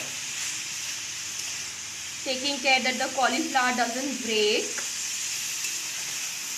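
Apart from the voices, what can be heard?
cauliflower and spinach sizzling in pan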